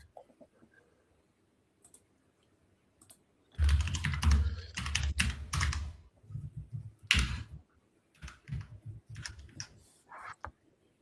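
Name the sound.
typing on a computer keyboard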